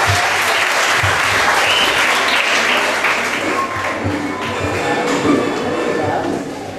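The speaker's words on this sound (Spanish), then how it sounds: "Un aplauso para Abdul." A crowd claps steadily and enthusiastically at a school end-of-year ceremony, a dense wash of applause that continues throughout before tapering slightly at the end.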